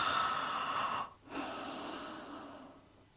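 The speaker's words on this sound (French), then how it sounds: "on peut faire un bâillement sonore" A drawn-out, breathy yawn close up: a long airy inhale, a brief pause, then a slower exhale trailing off.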